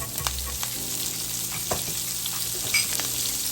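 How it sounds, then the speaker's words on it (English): Garlic, green onion and parsley sauteing in leftover oil and grease from shrimp and salmon, a steady close sizzle with light stirring scrapes and small pops. "saute your garlic, onion, and parsley"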